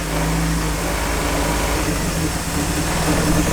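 A turbocharged Nissan S14 idles on a dyno, giving a steady, loud low engine drone with a constant hum and no revving, close and continuous throughout.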